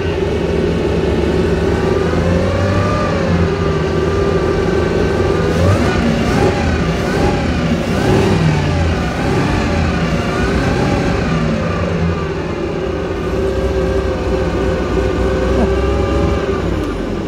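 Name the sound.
1930s Bugatti eight-cylinder engine running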